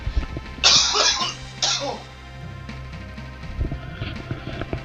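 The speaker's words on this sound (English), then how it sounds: "I have to cough." A person gives two harsh, close coughs in quick succession, followed by a quieter stretch with a faint low hum and light background clatter.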